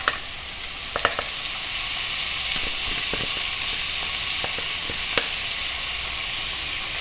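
Drained rice sizzles in hot oil with peri peri spices for a Portuguese-style savoury rice, a steady close frying hiss broken by a few sharp crackles and stirring clicks.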